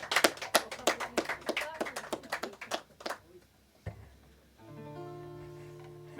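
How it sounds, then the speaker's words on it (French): Performers clap for a small audience in a run of distinct, close, fairly quick hand claps that thin out and stop, after which sustained musical tones begin. "On va se permettre de vous applaudir."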